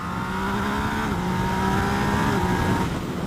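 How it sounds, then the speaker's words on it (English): A Yamaha MT-09 motorcycle accelerates with steady engine drone, revs rising then dropping briefly at quick-shifter upshifts, heard at moderate distance without talk. "The bike has a quick shifter for upshifts."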